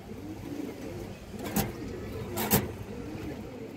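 Pigeons offered for sale coo softly and repeatedly nearby, with a couple of short knocks or bumps in the background.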